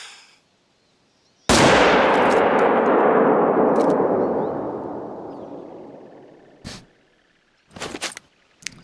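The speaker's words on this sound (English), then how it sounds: "See, now that is a heart shot on a moose, right?" A single loud rifle shot at a moose in the Yukon in The Hunter: Call of the Wild, rolling away in a long fading echo over several seconds, followed later by a few faint brief clicks.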